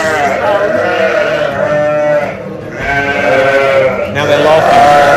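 Goats at a petting zoo farm bleating in long, wavering calls, close and loud, with a brief dip before the bleating resumes.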